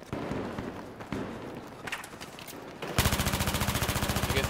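Rapid gunfire in a Battlefield 3 multiplayer match at Talah Market, with scattered loud shots and clatter giving way to a fast, steady automatic burst at the end.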